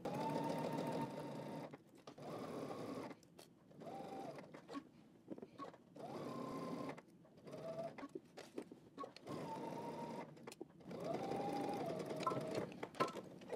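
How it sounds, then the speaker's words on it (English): A sewing machine edge stitching down the sides and bottom of a garment pocket, running in repeated close bursts of steady whirring hum separated by short pauses, with no talking. "let's go ahead and edge stitch down the sides and the bottom of our pocket"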